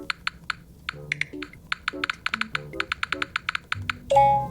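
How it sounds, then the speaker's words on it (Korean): Rapid, crisp taps on a phone keyboard in an English-learning app, each with a short click tone, in an uneven typing rhythm, ending with a brief chime. "이렇게 타이핑으로 입력을 하시면 됩니다."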